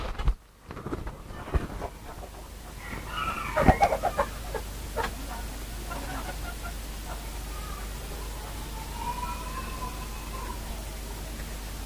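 Serama chickens cluck and call nearby in a steady run of short, scattered notes over a constant background hum, with a brief louder burst partway through.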